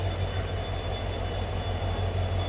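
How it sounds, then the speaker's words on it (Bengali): The Alipurduar Tourist Express pulling out of New Jalpaiguri station, a steady low rumble and drone of the moving train with a faint high whine, constant and close throughout. "আমার ট্রেন ছেড়ে দিল NGP রেলওয়ে স্টেশন থেকে।"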